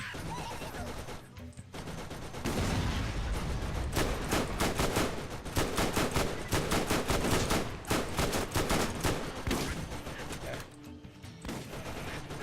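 Rapid bursts of gunfire in the shooter game Borderlands, aimed at a turret, with dense automatic volleys and sharp repeated shots fairly loud and close, broken by brief pauses, faint talk underneath.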